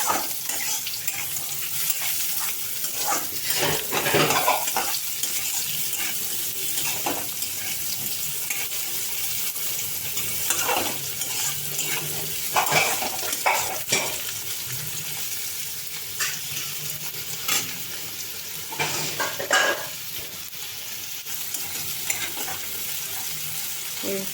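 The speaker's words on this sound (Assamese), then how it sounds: "এতিয়া মই বইল চানাখিনি ভাজি ল'ম" Boiled chickpeas frying in a pan with a steady sizzle, broken by repeated scraping and stirring strokes.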